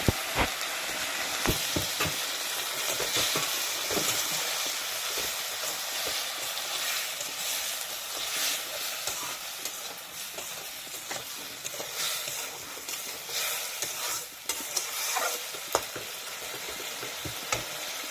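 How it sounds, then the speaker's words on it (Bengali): Ginger cumin paste with turmeric sizzles in a pan after a splash of water goes in for a fish curry, a close, continuous frying hiss broken by frequent clinks and scrapes of stirring. "হালকা করে একটু আদা জিরা বাটা ছিল সেটা আমি দিয়ে দিচ্ছি, সামান্য একটু জল দিচ্ছি।"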